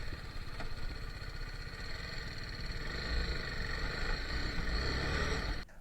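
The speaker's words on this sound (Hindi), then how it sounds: "अपनी जगह से हिल ही नहीं रही बिल्कुल, रेस देने के बाद भी" Heavy motorcycle engine revving hard on Morjim Beach in Goa while its tyre stays stuck in sand, a close, steady droning rumble that builds slightly before cutting off abruptly near the end.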